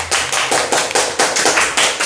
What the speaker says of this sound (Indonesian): Tepuk tangan untuk desa kita.